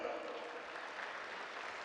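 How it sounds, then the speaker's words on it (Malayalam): An audience applauds after a chenda melam performance at a Christmas and New Year gathering in Kuwait, a dense, even wash of clapping at moderate distance, fairly quiet and continuous. "ഒരു കയ്യടി കൂടി കൊടുത്തേ"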